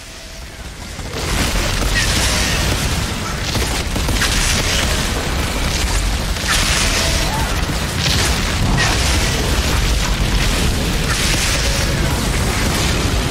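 Fire tornado skill in the Outriders video game, giving a continuous roaring rumble of explosions with repeated bursts over a dense, loud bed.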